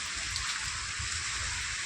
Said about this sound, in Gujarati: જોરદાર વરસાદ મહેસાણામાં